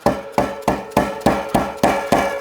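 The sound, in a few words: rubber mallet tapping bicycle freehub pawls back round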